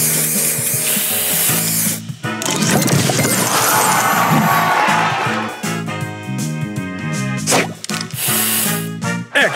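A loud, crashing spray burst from a booster in the Match Masters puzzle game's Plunder Pirates solo challenge, a noisy whooshing smash followed by chiming, tonal game effects and sharp hits.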